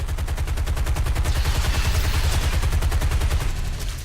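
A P-51D's machine guns fire in War Thunder, a loud, rapid, unbroken burst of gunfire lasting about four seconds.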